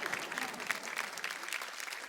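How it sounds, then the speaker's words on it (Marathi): Studio audience at a Marathi women's game show gives a burst of loud, steady applause, dense clapping sustained throughout with a faint crowd murmur. "एकदा जोरदार टाळ्या."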